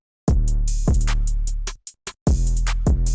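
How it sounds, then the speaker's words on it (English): Drums run through a heavy multi-band compressor give a few loud, dense hits with squashed, sustained tails and short gaps between them, alone and close. "I put them in the mixer and I add a multi-band compressor."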